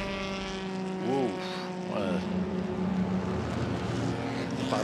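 A 1953 Jowett Jupiter race car with a 1500 cc four-cylinder engine sweeps past on the Le Mans circuit during a classic race, its engine a loud steady drone with a pitch sweep as it goes by.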